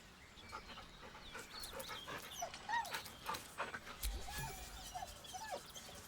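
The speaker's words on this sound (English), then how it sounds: "The dog whimpers nervously" A dog in the video game Baldur's Gate 3 whimpers nervously, with a run of soft, high, wavering whines and panting breaths over a quiet ambient background.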